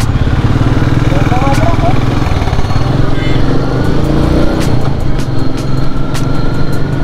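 A group of Bullet motorcycles rides along a road on a breakfast ride, making a loud, steady engine drone with a throbbing low rumble close by, while a person talks over it.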